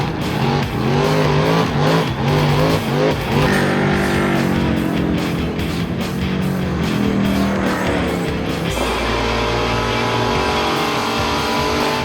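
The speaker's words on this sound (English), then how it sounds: "followed by a few tough Holden utes pluming smoke high into the stratosphere" Holden ute doing a burnout on a pad at a Street Commodores event: a loud, sustained engine roar with rising and falling revs and a harsh tyre hiss, continuous throughout.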